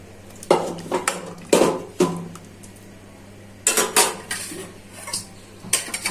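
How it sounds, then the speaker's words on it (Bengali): Raw mango pieces going into a pot of rohu fish curry, several sharp clattering knocks and scrapes of a utensil against the pot in uneven bursts, close and loud, with no talking. "এখন আমগুলো দিয়ে দিচ্ছি"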